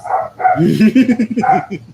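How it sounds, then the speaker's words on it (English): Dogs bark and yip close by in a quick, loud burst of several overlapping calls, some whimpering. "the dogs are going bananas"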